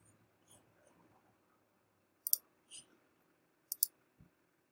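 A computer mouse clicks the Update button in the Elementor editor. A few crisp, close, quiet clicks come in pairs, spread over a few seconds, with faint handling noise and no speech.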